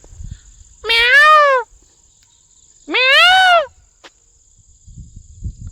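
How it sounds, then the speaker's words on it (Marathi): Two loud, drawn-out peacock calls ring out a couple of seconds apart against a steady high insect hum, with faint rustling between. "वारंवार मोराचा आवाज"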